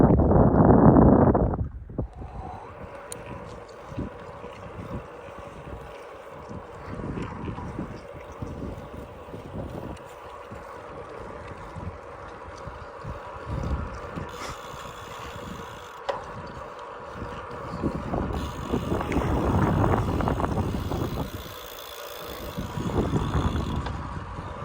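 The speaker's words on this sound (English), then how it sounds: "So we got a southwest wind." A southwest wind buffets the microphone during a gravel bike ride around Mormon Lake, Arizona: loud, low rumbling gusts that swell and fade throughout, near and continuous.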